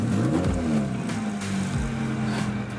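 The engine of a 1989 Honda Civic Shuttle EE4 runs close by with a steady low idle rumble, its pitch shifting slightly a couple of times as it revs gently.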